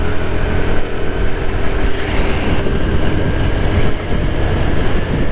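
A TVS Jupiter scooter riding at speed on a highway, giving a loud, steady rush of engine and wind noise without a break, heard close up.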